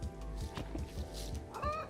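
Video game chickens in Donut County cluck in short bursts over a steady background hum, with a brief higher squawk near the end.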